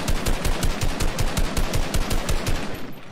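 Rapid automatic gunfire in a Fortnite Battle Royale match, a close, loud stream of evenly spaced shots rattling for about three seconds without a break.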